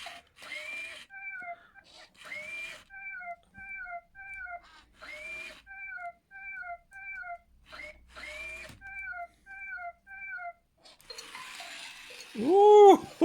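Aldi Power Kitty Jr remote control robot toy kitten moving: repeated electronic meow-like chirps in a steady looping pattern with brief gaps, ending in a louder burst of whirring motor sound.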